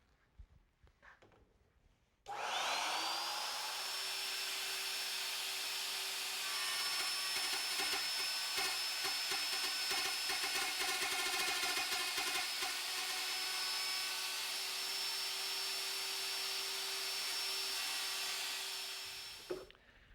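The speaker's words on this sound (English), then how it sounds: "use a scrap piece of wood to do your test cuts" A power saw making test cuts in scrap wood for walnut and purpleheart dovetail work: the motor spins up with a rising whine, then holds a loud, sustained tonal drone with gritty cutting noise before stopping.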